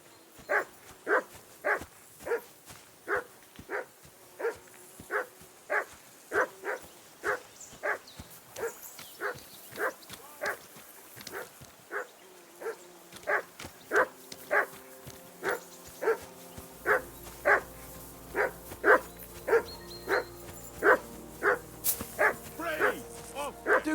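Dog barking in Kingdom Come Deliverance 2: a dog gives a long series of regular, evenly spaced barks, steady and moderately close, with a low background hum entering partway through.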